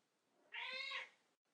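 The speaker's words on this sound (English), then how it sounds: "that's my cat." A house cat gives a single clear meow, fairly close and moderately loud, in an otherwise quiet room.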